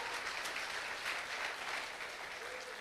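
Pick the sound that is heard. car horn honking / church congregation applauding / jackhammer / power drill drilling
church congregation applauding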